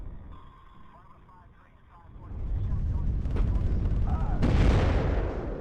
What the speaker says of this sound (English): Missile goes out.